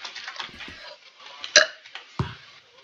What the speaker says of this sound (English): What was that burp?